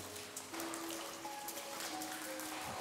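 Rain patters steadily inside an abandoned amusement park building, a soft, even wash of drops with faint tonal hums behind it, quiet and unbroken with no voices.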